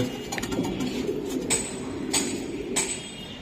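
Racing pigeons cooing in a loft, low throaty coos repeating close by over a faint background, with a few sharp clicks and rustles scattered through.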